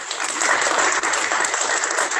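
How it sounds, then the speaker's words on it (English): Sustained applause from an audience at an International Day of Education event, steady and dense clapping filling the whole stretch without a break. "So let's clap."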